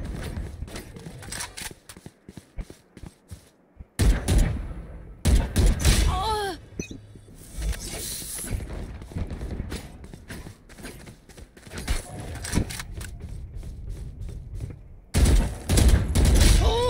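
Gunfire in Valorant, loud bursts of rapid shots at the start and again near the end, with quieter game sounds and footsteps in between and someone talking over parts of it.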